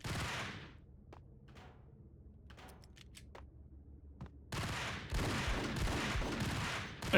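Gunfire rings out in the video game Max Payne, with a shot at the start, a quiet stretch of scattered small clicks and taps, then a loud sustained burst of rapid firing through the end.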